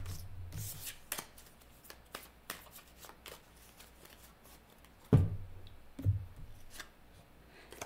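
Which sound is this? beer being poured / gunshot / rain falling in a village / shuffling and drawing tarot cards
shuffling and drawing tarot cards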